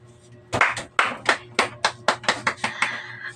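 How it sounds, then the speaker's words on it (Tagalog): A class claps in unison about ten times, sharp, loud, evenly spaced claps with a short pause after the first, close to the listener with no talking. "bibigyan natin siya ng 10 palakpak"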